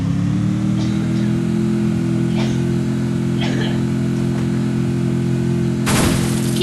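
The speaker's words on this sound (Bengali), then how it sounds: "এখন আমি গাড়িটা নিয়ে হাইরা আমি একাই যাবো" A car engine in the Free Fire video game holds a steady, loud droning hum the whole time, with faint intermittent noises above it and a sudden burst of noise near the end.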